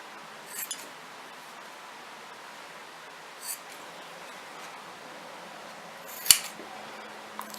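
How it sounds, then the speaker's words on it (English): Scissors trimming the yarn ends of a pom-pom: a few faint snips in a quiet room, then one sharper, louder cut near the end, with no one talking. "Then we're just going to trim these ends."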